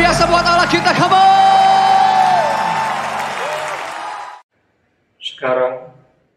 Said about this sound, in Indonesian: Lebih lagi sorak-sorak kemuliaan yang luar biasa buat Allah kita.